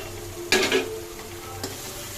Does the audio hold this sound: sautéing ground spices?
yes